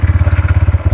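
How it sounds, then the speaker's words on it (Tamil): A Bajaj Pulsar N125 motorcycle, a 2025 125cc model, fires up into a rapid, loud, close engine thump with an even pulsing beat for about a second. "ஸோ வெஹிக்கிள் ஸ்டார்ட் பண்ணி பார்த்துருவோம்."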